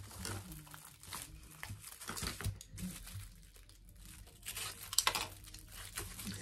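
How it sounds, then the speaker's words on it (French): Plastic packaging from an online shopping haul being unwrapped up close, with soft crinkling and rustling, a few sharper crackles near the end, and no speech. "Je vais réussir à les déballer sans rien casser."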